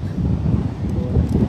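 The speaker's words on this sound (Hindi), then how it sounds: "हवा चल रही है उसकी वजह से अगर थोड़ी सी" Steady outdoor wind buffets the microphone, a continuous low rumbling roar with slight gusts throughout and no other clear sound.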